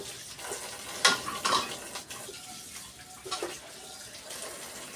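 Dishes are washed under running tap water, a steady close splashing with a few louder clattering surges as items move through the stream.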